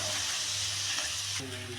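Slices of gourd fry in hot oil, giving a fairly quiet, steady hiss and sizzle that shifts slightly in tone near the end of the short stretch.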